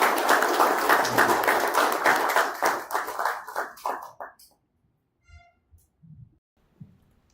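An audience at a spiritual talk gives a round of applause to welcome a speaker. Dense clapping lasts about four seconds, thins out and stops, followed by near silence with a few faint thumps.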